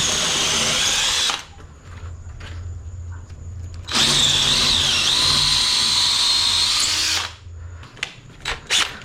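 A regular power drill with a 1/4-inch bit whines loudly in two long bursts separated by a brief pause while widening a hole in concrete, ending with a few short trigger pulses.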